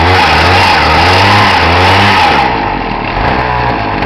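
A gas string trimmer engine fitted with a vapor carburetor revs loudly and steadily up close, a buzzing mid-pitched drone that holds high and then eases slightly toward the end, with no talking.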